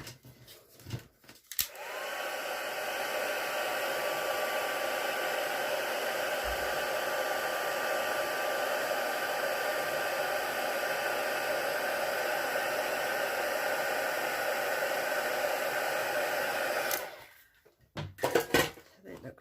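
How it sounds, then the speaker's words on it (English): A craft heat tool set on white embossing powder starts up and blows with a steady close whooshing hum for about fifteen seconds, then clicks off, with handling clatter at either end. "And I'll just pop some basic white embossing powder onto that. And I'll just heat set that"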